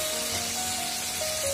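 Dry spices (chili powder, garam masala, turmeric) sizzle steadily as they are stirred into mixed vegetables with cluster beans in a pan, a continuous close hiss without talk.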